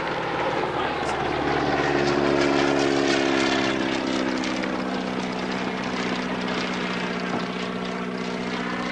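A propeller airplane climbs out over a field with a steady, loud engine drone and droning harmonic whine, constant throughout and close.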